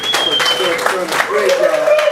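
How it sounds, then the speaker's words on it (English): Brief burst of audience applause at a repatriation and investment conference in Ghana, clapping heard under voices and talk in the room. "Let's give him a round of applause for doing"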